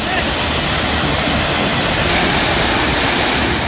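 The swollen Hasdeo river pours over an anicut weir in Chhattisgarh during flooding, a loud, dense, continuous roar of rushing water filling the scene without pause.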